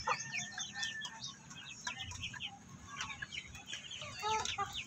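A four-month-old Shamo Aseel chicken gives repeated short clucks and chirps outdoors, close and moderately loud, with soft background rustle and no talk.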